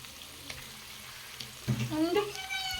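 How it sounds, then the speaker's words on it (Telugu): Mutton pieces fry gently in a pan on low heat in a home kitchen, a soft, quiet sizzle with light crackles, and a voice speaks over it in the second half. "నేను ఇప్పుడు దీన్ని సిమ్లో పెట్టుకొని ఫ్రై చేసుకుంటున్నాను"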